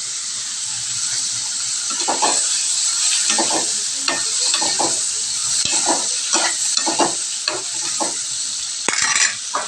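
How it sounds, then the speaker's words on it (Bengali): Marinated paneer dropping into hot deep-frying oil, a steady loud sizzle and hiss with repeated sharp crackling bursts and spatters throughout, no voices. "এই যে ম্যারিনেট করা পনিরগুলো এখন গরম ছাকা তেলে দিয়ে দেবো"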